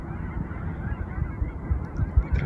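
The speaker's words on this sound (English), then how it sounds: "There's a huge flock of geese over there." A huge flock of geese honks by a river, far away and swirling down to land, making a continuous dense chorus of distant overlapping calls.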